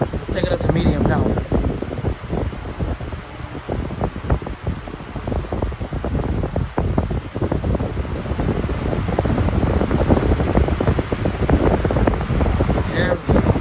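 Steady, broadband rushing roar of an 18 inch TPI high velocity fan running at medium power, loud and continuous with a windy, turbulent character and no change in level throughout.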